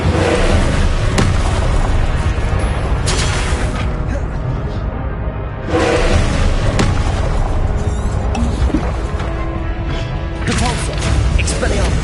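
Spell blasts from an Incendio fire spell in the Hogwarts Legacy video game boom and crash over and over in a dense, loud, continuous battle din, with a voice shouting over the impacts.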